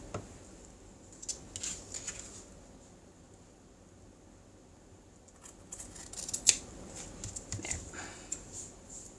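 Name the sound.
scissors cutting envelope paper for a junk journal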